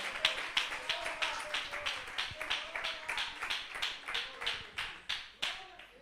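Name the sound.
congregation clapping hands in church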